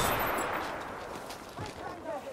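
Bursts of automatic gunfire from the video game Battlefield 5 during Rush mode gameplay, loud and close at first, then easing slightly before a renewed volley.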